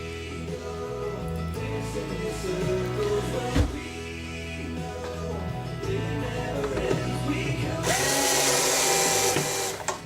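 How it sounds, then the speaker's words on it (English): A power screwdriver drives servo screws into an ARF Revolver model airplane, a steady whirring drone running through the clip with a brief sharp knock partway and a brighter, louder hiss near the end. "Now I'm going to go ahead and put my servo screws in."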